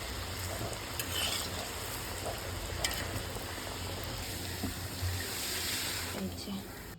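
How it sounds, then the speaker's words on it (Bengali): Palm-fruit pitha cakes fry in a pan of oil, a steady broadband sizzle and bubbling that runs throughout with occasional faint clinks, close and moderately loud. "আর আমি এখানে ভাজছি"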